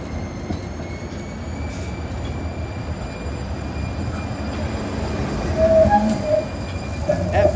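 A two-car Siemens test train rumbles past on the rails with a steady low roar, building slightly louder, with faint squeals and clicks from the wheels.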